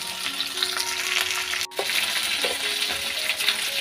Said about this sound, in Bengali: চলো ঝিঙেটা একটু হালকা ভাজা ভাজা হয়ে যায়।